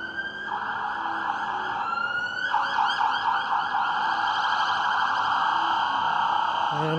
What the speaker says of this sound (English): That sounds like a police car.